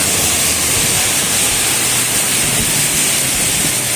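A steady, dense hiss of heavy rain pours down on a flooding street without a break, loud and close, with no voices.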